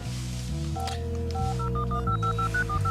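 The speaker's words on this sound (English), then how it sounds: "get Judge Riley on the phone for me, will you" A telephone number is dialed, a quick series of short touch-tone beeps stepping through different pitches over a steady background hum, with no voices.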